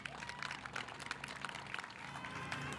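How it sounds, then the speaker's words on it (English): Crowd applause for a band at a Rockford graduation ceremony, a dense patter of many hands clapping at once, moderately loud and continuous from start to finish. "Let's have a round of applause for our band"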